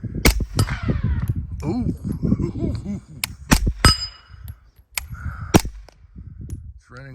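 A Pak-9 AK pistol fires a string of mixed rounds, sharp loud close shots in an uneven rhythm with metallic clinks of ejecting brass between them, while a voice talks and exclaims over the shooting.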